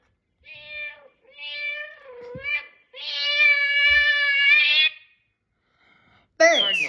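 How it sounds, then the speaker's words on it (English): A domestic cat meows several times up close, drawn-out plaintive cries with one long wavering call, separated by brief silences and ending in a sharper, higher yowl. "Cat."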